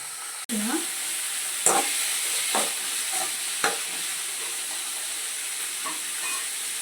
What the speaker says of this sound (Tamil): இப்போது பொடியாக கட் பண்ணி வச்சுருக்க தக்காளி சேர்த்துக்கலாம்.